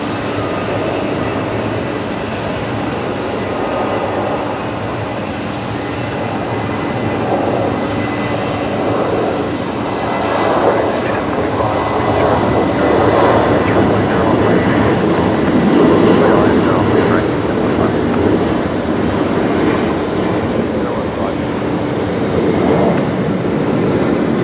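Night arrival on short final at Brisbane Airport, a broad steady jet roar building gradually and swelling loudest toward the end, fairly near and sustained.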